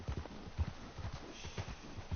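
Horse hooves clip-clopping in the video game Red Dead Online, a quick, even run of soft thudding steps at close range, with no talking over them.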